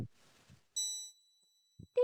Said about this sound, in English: Suddenly the bell rings